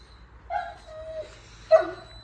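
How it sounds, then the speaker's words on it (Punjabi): A dog whines in a long, drawn-out whimper, then lets out a sharp yip or bark, close by with no talking. "ਟਾਈਗਰ ਨੂੰ ਜਦ ਤੱਕ ਮਿਲਦੇ ਨਹੀਂ ਨਾ ਹਟਣੇ ਦੇ ਨਹੀਂ ਆ ਬੋਲਣੇ ਤੇ ਭੌਂਕੇ ਜਾਉਂਗੇ"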